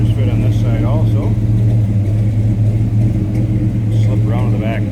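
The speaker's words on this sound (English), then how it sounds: "nice rumble out of that 396. Good sounding car" A 1966 Chevrolet Biscayne wagon street rod with a 396 V8 rumbles steadily and loud from start to finish, a deep continuous exhaust drone with someone talking over it.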